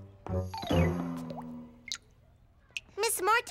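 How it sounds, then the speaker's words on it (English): A leaking tap in a cartoon gives a few squishy, wet drips and plops, spaced irregularly, with bursts of voices around them. "Miss Martin, the tap is leaking"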